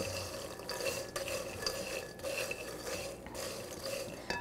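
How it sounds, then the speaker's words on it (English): Spices are stirred around in a pan, making faint rhythmic scraping and soft clinks of a utensil against the pan, with no talking. "let's stir those around"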